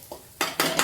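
Pieces of rawas fish dropped into a pan for fish curry: a soft tap, then two bursts of sizzling with faint pan clatter, close and short.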